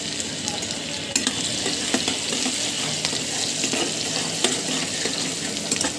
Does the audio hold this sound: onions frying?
yes